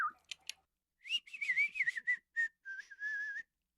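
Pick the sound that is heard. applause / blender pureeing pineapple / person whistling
person whistling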